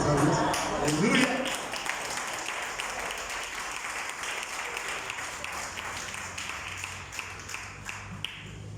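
A church congregation at a Spanish-language service gives a burst of applause, loud and full at first and then thinning into scattered clapping. A few voices are heard under the clapping as it fades.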